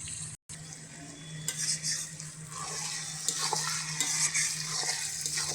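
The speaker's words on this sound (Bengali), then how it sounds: "এবার মাংসটা মশলার সাথে ভালো করে কষে নেব।" Chicken stir-fried with spices in oil in a pan, a steady sizzle with spoon scrapes and clinks against the pan, close and continuous after a brief gap at the start.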